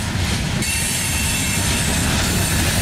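Long, heavy Norfolk Southern manifest freight train led by AC44C6M locomotives rolls past with a steady, loud rumble and a sustained high metallic wheel squeal, close by and continuous.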